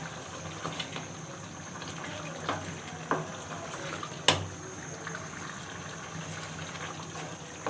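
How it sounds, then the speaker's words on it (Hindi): Tomatoes being stirred into a simmering mutton curry in a pot, a steady sizzling bubble with occasional spoon scrapes and clacks against the metal, close and fairly loud with no talking. "अब मैं इसमें टमाटर ऐड कर देती हूँ और अच्छी तरह से हम मिक्स कर लेंगे"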